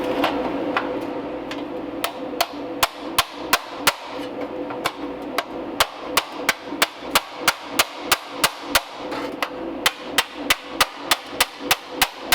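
A hammer and dolly tap a TIG-welded steel gauge panel for a 1934 Ford Tudor Sedan, a long run of light, sharp metallic strikes, sparse at first then quick and regular, over a low steady background hum.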